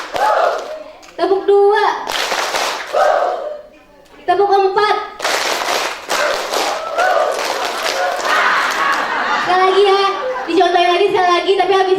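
A group of children clapping in unison on a teacher's spoken count at a community health post session, with short bursts of claps separated by a voice calling the counts.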